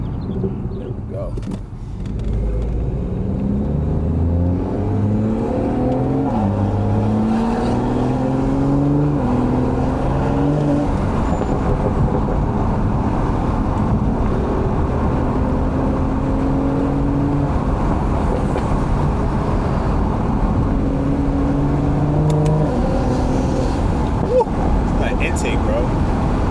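Catless stage 2 BMW 440i on a morning drive with the windows down, its engine droning steadily and loud throughout, rising and falling through gear changes with harmonics stepping up and down, under a constant road and cabin roar.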